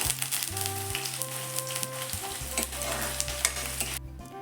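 Sliced onions and split green chillies fry in a pan with a constant sizzle and spatula stirring, while low steady hums and tonal drones run underneath, close and fairly quiet.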